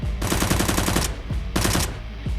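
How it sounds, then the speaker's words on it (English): Two bursts of rapid automatic gunfire, loud and close, each a fast rattling string of shots separated by a brief pause. "A henchman outside sees the SWAT officer and starts shooting."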